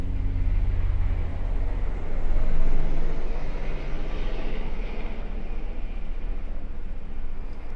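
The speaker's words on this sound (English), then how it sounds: "There's a lot of planes and helicopters right now." Aircraft flying overhead, a steady loud engine roar with a low rumble that swells briefly as a plane passes, then continues as a constant drone.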